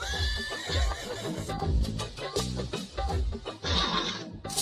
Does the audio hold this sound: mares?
yes